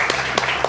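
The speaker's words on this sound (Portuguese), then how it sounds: "E uma salva de palmas agora pra Janaína Lima." Brief burst of applause at a bar talk event, a short loud patter of clapping from a gathered audience lasting under a second.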